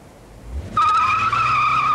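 A Volkswagen Golf GTI 16-valve driven hard on the Bruntingthorpe test track, a loud sustained tyre squeal kicking in suddenly over engine rumble and holding steady.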